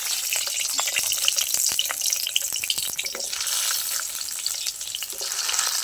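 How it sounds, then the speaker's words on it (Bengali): Pointed gourd (potol) frying in hot oil in a heated kadai, a steady bright sizzle with scattered crackles and pops, close and continuous with no voices. "পটলটা ভেজে নেব, এক এক করে পটল ছেড়ে দেবো।"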